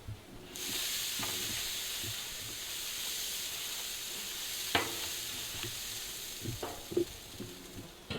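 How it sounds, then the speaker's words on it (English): Beef broth is spritzed onto beef ribs cooking on a barbecue pit, a steady soft hiss of spray and sizzle running throughout, broken by a few faint clicks and taps. "I'm going to spritz it with our beef broth."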